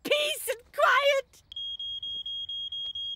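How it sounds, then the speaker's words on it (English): Brief voices give way to a smoke alarm's rapid, shrill beeping, repeating in a steady pulse close by. "That sounds like a smoke alarm."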